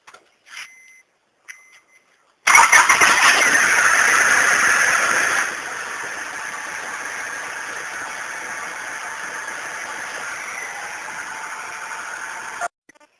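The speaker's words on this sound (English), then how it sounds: "we're going to start up the 97 Accord." A 1997 Honda Accord engine, freshly given a valve job, cranks and catches with a loud burst, then settles into a steady, quieter idle that runs for several seconds before cutting off abruptly.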